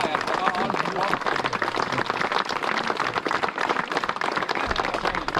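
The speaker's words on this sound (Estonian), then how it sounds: "ma arvan, et härra Hans Soll väärib ühte suurt aplausi" Dense clapping from an audience at an outdoor spin-fishing competition awards, steady and sustained throughout, without a clear break.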